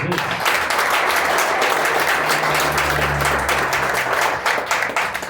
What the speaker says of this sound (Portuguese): Palmas alegres para o Rei Jesus.